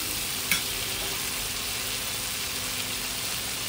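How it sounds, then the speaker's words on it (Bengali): Potatoes and spice paste sizzle in a pan while being gently stirred, a steady, even frying hiss with a single faint knock of the utensil near the start. "হালকা করে সুন্দর করে নাড়াচাড়া করে নিতে হবে।"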